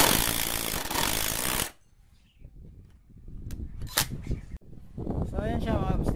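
Dong Cheng impact driver on its high setting, testing a screw into thick material: a loud burst of mechanical hammering for under two seconds, then a quieter pause, then sharp impact clatters and another loud burst.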